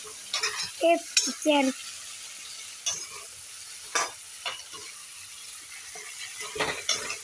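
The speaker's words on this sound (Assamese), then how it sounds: "সেইদৰে অলপ সময় ভাজি ল'ম।" Water hyacinth flowers fry in a pan, a quiet sizzle underneath punctuated by several sharp scraping stirs and clinks of a spatula against the pan, spaced irregularly.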